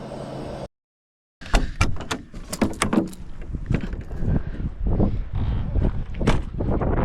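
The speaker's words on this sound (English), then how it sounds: "We had maybe an hour before the gusts of wind came back." Gusty desert wind at a Quartzsite campsite buffets the microphone in rough, surging bursts of broadband noise, with a brief dropout near the start.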